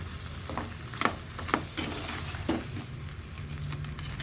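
Crab curry masala is stirred in a pan, a soft sizzle underneath with several distinct scraping strokes of a spoon, close and fairly quiet, no talking.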